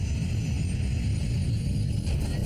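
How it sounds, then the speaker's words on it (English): Boeing 747 jet engine roaring back to life, a steady, loud, broad rumble with a constant high whine over it, holding without a break throughout. "the fourth engine roars back to life."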